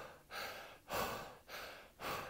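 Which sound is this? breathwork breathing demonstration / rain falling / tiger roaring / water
breathwork breathing demonstration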